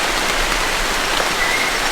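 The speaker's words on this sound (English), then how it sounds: "And we're getting rained on like crazy." Heavy rain pours down in a tropical forest on Waigeo, a dense, steady broadband hiss of drops on leaves with no pauses, loud and close throughout.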